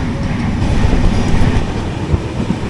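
The 17206 Kakinada Port–Sainagar Shirdi Express runs at about 107 km/h on a track with a wide buffer zone, producing a loud, steady rumble with rapid wheel clatter throughout and no voices.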